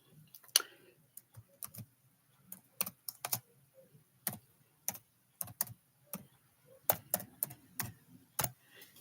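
Irregular bursts of keystrokes clack on a computer keyboard, close and fairly quiet, coming in quick clusters with short pauses between them in an otherwise still room.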